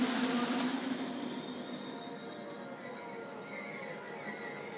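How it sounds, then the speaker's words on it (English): A train rumbles past at a distance, a steady broad roar with a faint metallic squeal, no voices. "This is not my train, by the way. I'm going to let this train pass."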